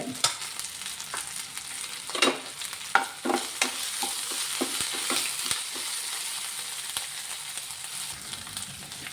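Crushed ginger, garlic and cumin are tossed into a hot pan for a capsicum stir-fry, giving a steady sizzle broken by repeated sharp scrapes and clicks of stirring.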